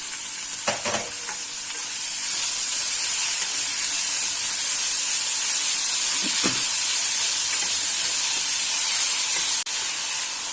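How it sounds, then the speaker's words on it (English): Finely chopped onions sizzle steadily in a hot pan of spiced oil with coriander leaves and hing, a continuous bright frying hiss with a few soft stirring clicks, close and loud, no voices. "And now I'll add my onion, finely chopped onions."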